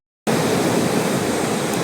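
Strong sea waves at the shore make a loud, steady broadband roar that starts abruptly and holds without a break, with no voices.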